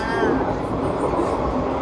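Tram running along rails during a ride past cherry blossoms, giving a steady rolling rumble with faint clinking, heard from inside the car while a person talks over it.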